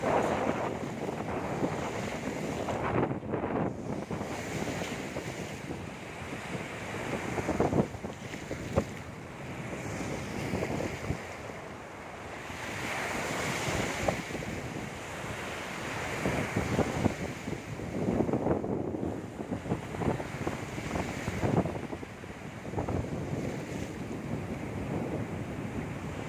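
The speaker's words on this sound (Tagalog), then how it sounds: "Tutulak na tayo ng alon guys." Ocean waves rolling onto a beach at a Pangasinan beach resort, with steady roaring surf and constant gusting wind buffeting the microphone, continuous and close with no talking.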